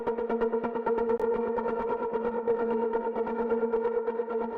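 Acid trance synth line playing a steady pulsing sequence of repeated notes with a stereo delay widening effect switched on partway, filling out the sound; loud and continuous with no talking.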